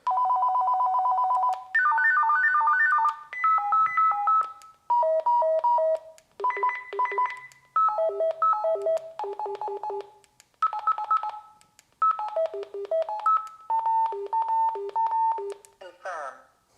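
A Radioddity FS-T1 FRS radio plays a run of electronic ring call tones: rapid stepped beeping melodies in clipped bursts with brief pauses, fairly loud and close.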